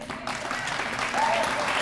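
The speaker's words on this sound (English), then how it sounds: "we'll just give her a round of applause" An audience at a children's charity awards event breaks into applause, dense clapping from many hands that swells slightly louder toward the end, close and sustained without speech over it.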